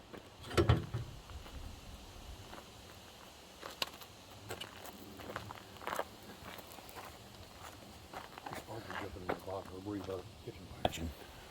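A hammer chips slag off fresh welds from a Low Key Off-road Karnage welder in a string of irregular taps and light clanks, with faint talk and some background noise throughout.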